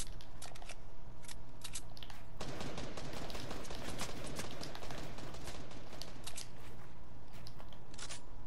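Rapid bursts of gunfire from a first-person video game shooter, loud and dense, crackling volleys with short gaps and a long sustained stretch of fire.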